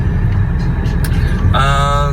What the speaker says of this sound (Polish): Już tak jadę trzeci czy czwarty kilometr na przebitym ranflacie